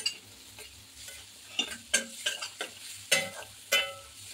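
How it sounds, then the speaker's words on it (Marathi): Turmeric and coriander powder fry and roast with onion in a pan for a moth bean usal, a low sizzle under repeated clinking, scraping stirs of a spoon; no voices. "मसाले छान आपल्याला असे फ्राय करून भाजून घ्यायचे आहेत, एकजीव करून घ्यायचा आहे."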